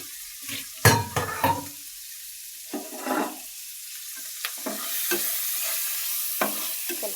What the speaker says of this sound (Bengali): এইখানে পেঁয়াজ, মরিচ, কাঁচামরিচ পেঁয়াজ তেলে ভেজে নেব।